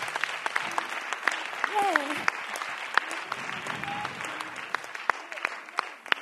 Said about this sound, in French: On l'applaudit bien fort et bravo